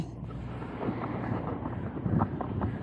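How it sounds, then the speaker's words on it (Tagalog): Strong wind buffets the microphone in a constant rough roar while cycling, with gusts swelling and fading and no voices. "Dito yung malakas sa hangin."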